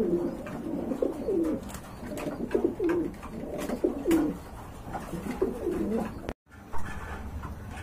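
Pigeons, fancy racers and local birds, coo in repeated soft rolling calls close by, overlapping in a steady rhythm, with a brief dropout near the end.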